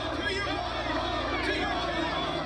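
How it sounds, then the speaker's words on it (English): Angry crowd of demonstrators and residents massed in a city street near Broadway and Pine Street during the 1999 WTO protests, a steady dense roar of voices and shouting with no clear gaps. "an angry crowd of demonstrators mixed with residents are near Broadway and Pine Street"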